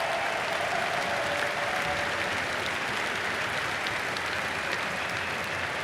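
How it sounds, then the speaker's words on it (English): An arena crowd at a Dota 2 cosplay contest at The International 2024 applauds steadily, a dense, continuous wash of clapping throughout with no voices over it. "all of the competitors deserve a round of applause"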